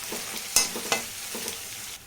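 Onion pieces and green chillies frying in oil, a quiet close sizzle broken by a few light spatula stirs and pops.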